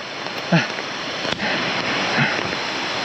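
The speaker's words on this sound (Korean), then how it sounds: "시원한 물소리 들으면서 데크 계단 한 발자국 한 발자국" Steady broadband rush of a mountain stream flowing beside wooden deck stairs on a rainy hike in Gayasan National Park, Korea, continuous and fairly close, with a few brief footstep-like thumps.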